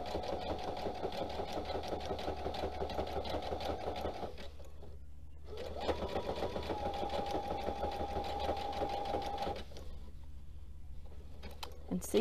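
Sewing machine running a number 6 zigzag stitch while piecing a jelly roll rail fence rug, a steady close whirring drone in two long runs with a brief pause between and a quiet stop at the end.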